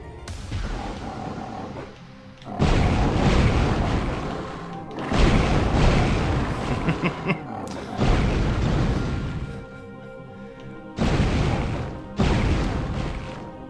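Fire-hands spell attacks in the game Hexen, heard as several loud, roaring whooshing blasts that come in bursts separated by short lulls, with a crackling, crashing edge.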